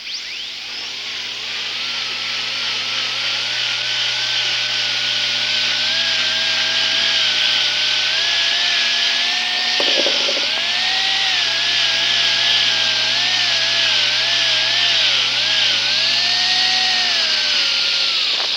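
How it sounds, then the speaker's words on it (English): A dental Robinson wheel with polishing compound spins against a gold inlay restoration, giving a steady high-pitched whine with a wavering tone that dips briefly midway as pressure changes, loud and continuous with no talk. "And we apply some Sure Shine to our Robinson wheel and then go to the tooth using a fairly firm pressure and holding the inlay securely,"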